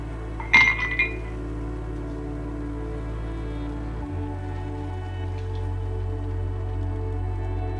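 Ice cubes drop into a glass for a vodka drink, giving a quick cluster of bright clinks near the start, then a low steady hum with a faint later tick.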